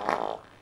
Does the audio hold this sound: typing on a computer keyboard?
no